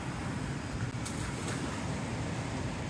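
Wind buffets a microphone outdoors at a fishing spot, a low rumbling gust noise that stays steady and fairly faint throughout, with no talk.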